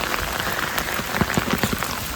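Rain pours down steadily, with scattered drops pattering and tapping close by on a hard surface, and no voices.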